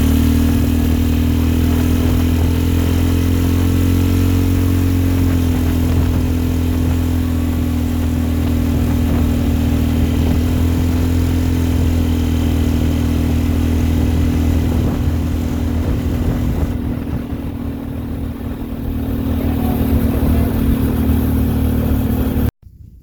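A small mini go-kart engine drones steadily and loudly up close throughout as the kart drives along trails, with a strong low hum, a rattling exhaust and slight dips in revs near the end before it cuts off abruptly.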